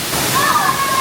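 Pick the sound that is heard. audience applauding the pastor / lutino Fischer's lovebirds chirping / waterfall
waterfall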